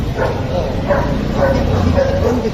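Dogs bark and yip at a Friday market where dog accessories like collars and chains are sold, short repeated barks in a noisy crowd with talk in the background.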